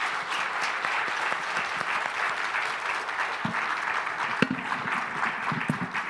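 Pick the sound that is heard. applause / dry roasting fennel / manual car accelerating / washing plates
applause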